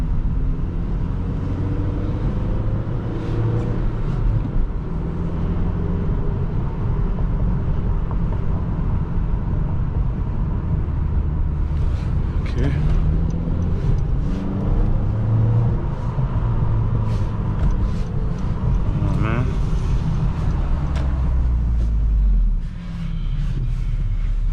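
A Honda Civic Si cruises along the road, its engine and tire rumble forming a steady, loud drone from inside the cabin, with wind buffeting the microphone throughout.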